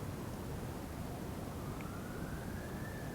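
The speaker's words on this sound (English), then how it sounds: "siren play itself out" A siren wails faintly in the distance during a philosophy group gathering, its thin rising tone drifting over a steady, noisy room background for a few seconds.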